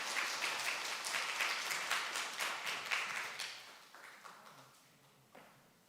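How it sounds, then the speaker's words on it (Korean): A church congregation claps during a Sunday morning worship service, dense applause that holds steady for a few seconds and then thins out to scattered, fading claps, with no talking. "우리 박수 한번 부탁드리겠습니다."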